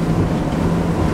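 Saxdor 320 GTO outboard engine running at 4,500 revs, a loud, steady close-up drone with low rumble mixed with rushing water and wind as the boat glides across a mostly flat harbour.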